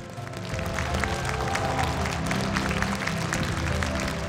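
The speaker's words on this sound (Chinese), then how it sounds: "掌声再热烈些。" Applause from an audience at a StarCraft all-star exhibition match in Shanghai, greeting the winning Korean team: steady dense clapping with crowd noise throughout, moderately loud and continuous.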